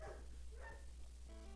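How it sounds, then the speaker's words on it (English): A pet dog barking indoors in the background, a couple of quick yips under steady low hum, fairly faint and distant. "I'm sorry about my dog, if you can hear him."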